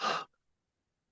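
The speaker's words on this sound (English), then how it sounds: "deep breath in" A single deep inhale taken during a guided breathing exercise, soft and close, lasting about a quarter second before fading into silence.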